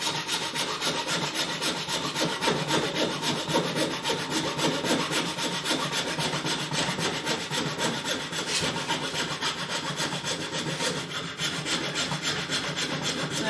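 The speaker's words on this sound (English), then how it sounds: "There, now I can cut it the way I'm supposed to." A hand saw cuts steadily through wood for a DIY Thinline Telecaster guitar body, a close, continuous rasping stroke rhythm that runs throughout without speech.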